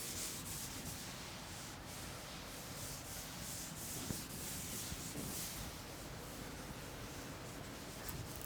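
Steady, faint rubbing as a board is wiped to erase writing, a continuous soft scrubbing hiss lasting several seconds with no voices.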